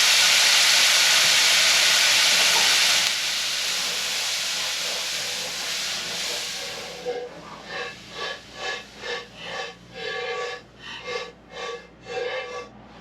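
Peas hit a hot pan of venison tenderloin drippings with a loud, steady sizzle that softens after a few seconds, then pulses rhythmically as they are stirred or shaken.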